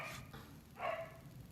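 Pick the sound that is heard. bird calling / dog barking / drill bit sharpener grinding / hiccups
dog barking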